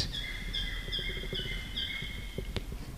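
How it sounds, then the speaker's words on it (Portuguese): Great kiskadees (bem-te-vi) call in repeated bright whistled phrases, three or four in a row, over a steady low background hum, with a sharp knock near the end. "Olha aí, até os bem-te-vi cantam."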